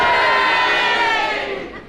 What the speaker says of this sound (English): The cheers had it.